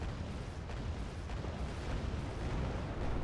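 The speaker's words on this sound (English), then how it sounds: "he's just getting wrecked with artillery" Heavy artillery fire in the real-time strategy game Wargame: Red Dragon rumbles as a continuous roar of overlapping booms and blasts, dense and low, with no clear gaps between impacts.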